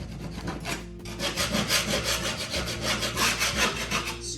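Close, rhythmic scraping of a drywall patch, a quick series of rasping back-and-forth strokes after a short quieter start.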